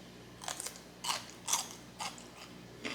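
Crunchy radish chewed close to the microphone during a black bean noodle mukbang, five or six sharp crisp bites spaced about half a second apart over a quiet background, with no talking.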